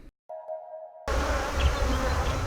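Honey bees buzz at an apiary in Escondido, a dense, loud swarm drone that starts abruptly after a brief steady tone and continues evenly to the end.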